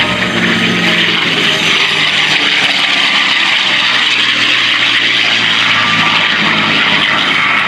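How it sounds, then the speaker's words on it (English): A P-51 Mustang warbird roars past during a 2015 airshow at Joint Base Andrews, a loud, continuous propeller-engine growl with a broad rushing tone that holds strong through the whole pass. "Giving him a great look at the P-51 Mustang."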